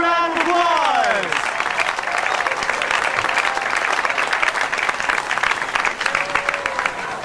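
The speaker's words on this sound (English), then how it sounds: "Well, you gotta give yourself a round of applause." A comedy club crowd breaks into loud, sustained applause with some cheering, the clapping steady and full for the whole stretch, while a voice briefly rises over it at the start.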